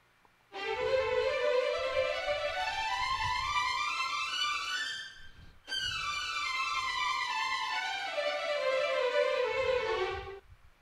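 Fast orchestral string runs played with only the legato layer of the Marcato patch: two smooth sweeping scale passages, one rising and one falling, split by a brief break, dense and loud, without any talking.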